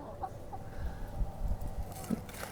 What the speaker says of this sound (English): The gang of chickens.